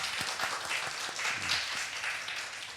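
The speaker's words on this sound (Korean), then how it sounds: "박수." Congregation clapping during a Sunday afternoon church service, a short burst of dense, sustained applause from a crowd indoors.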